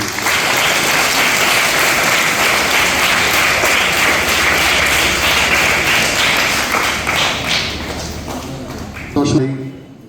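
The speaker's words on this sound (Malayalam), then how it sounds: "എല്ലാവരെയും ഒന്ന് കൈയടിച്ച് എല്ലാവരും അഭിനന്ദിക്കുക" Audience applause at a school Children's Day celebration, honouring LP, LKG and UKG teachers: dense, steady clapping that fills the whole stretch, then thins out and fades near the end.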